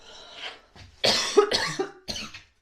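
A few harsh coughs from building dust in close succession, loud and near, with a short throat-clearing rasp between bursts, at a building site among hollow bricks.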